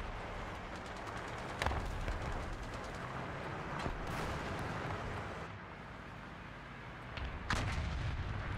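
Tank cannon shots ring out in the War Thunder video game, several sharp booms with rumbling tails spread across a steady battle din, and no one talks.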